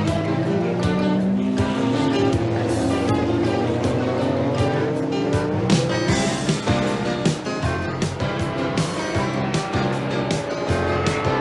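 Race cars at the 1984 Le Mans 24 Hours, Porsches and Lancias, roar loudly and continuously, their engine tones rising and falling as they pass during the opening hour of the race.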